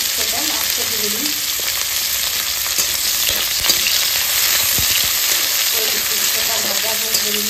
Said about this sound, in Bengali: করলাটা একটু লাল লাল করে বেশি করে ভেজে নিয়েছি